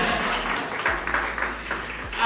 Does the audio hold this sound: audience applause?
yes